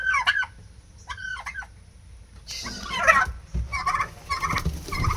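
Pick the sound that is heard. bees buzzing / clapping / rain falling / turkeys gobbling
turkeys gobbling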